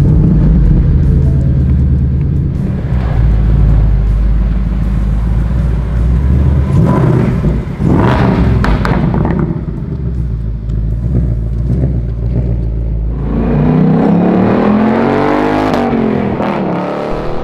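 A supercharged 775 hp Ford Mustang Bullitt with a Steeda upgrade drives, its engine a loud steady rumble close by that swells with revving surges and rises in pitch near the end as it accelerates.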